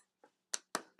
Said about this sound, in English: What are the claps doing in there?